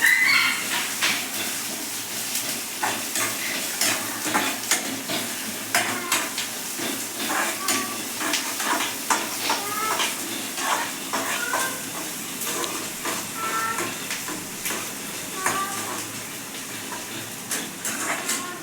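Onion and green chili sauté in a hot pan, with a continuous loud sizzle under quick, repeated stirring scrapes from start to finish.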